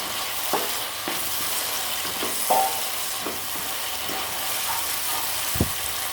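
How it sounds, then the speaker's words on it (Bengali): Fried potatoes go into a pan of masala that has cooked until the oil separates, making a continuous close sizzle and fry with a few scraping stirs of a spoon against the pan. "এবারে যে ভাজা আলুটা ভেজে রেখেছিলাম সেই আলুটা দিয়ে দেবো"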